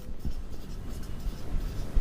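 Chalk or marker scratches steadily across a board while solving eighth-grade math, a continuous soft scraping with small taps, close and alone with no talking.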